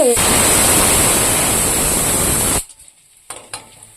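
Garlic frying in hot oil in a pan, a loud dense hiss of sizzling that cuts off abruptly partway, leaving faint knocks and clatter.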